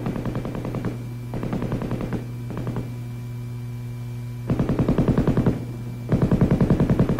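An M60 7.62 mm belt-fed machine gun fires in several rapid bursts of steady, evenly spaced shots, the later bursts louder and longer, over a constant low electrical hum.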